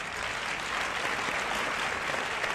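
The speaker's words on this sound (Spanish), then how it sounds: "Y el aplauso de toda España." A studio audience claps continuously and evenly for a few seconds, a broad, bright wash of hands at a steady moderate level with no speech on top.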